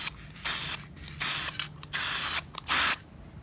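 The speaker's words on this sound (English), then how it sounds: "now I'm going to be using this Super Gold paint and just giving it a quick spray" Super Gold spray paint hissing from an aerosol can onto a small wooden onlay in four short, close bursts separated by brief pauses, with no talking.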